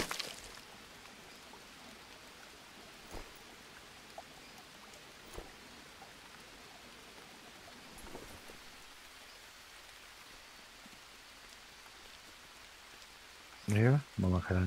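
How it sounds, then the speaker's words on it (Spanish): Steady rain falls in a jungle survival game, a soft continuous patter with a few louder drops, ending with a brief burst of other game sounds. "se copó la lluvia al final"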